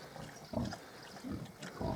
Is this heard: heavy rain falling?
no